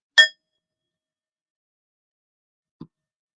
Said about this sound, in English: ringing the bell after each candle